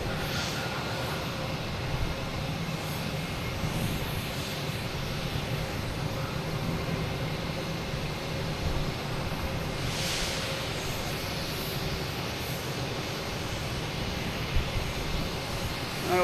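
An American Airlines airliner at Boston Logan Airport, heard as a steady, faint broadband engine roar from a distance, continuous for the whole stretch with no talk over it.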